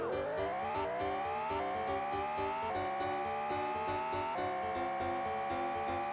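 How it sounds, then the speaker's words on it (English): A synthetic Jaguar XJ220 racing-car engine in the Sega CD game whines loudly and steadily, its pitch climbing and dropping back with each gear shift, over a driving electronic beat. "the car's engine sound leaves a little bit to be desired"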